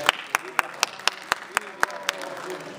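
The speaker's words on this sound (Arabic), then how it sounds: "صفقوا على فرنسا" A birthday party audience in Fès, Morocco, claps in a steady rhythm: about ten sharp, evenly spaced claps over a few seconds, close and clear, with a voice talking faintly in the background.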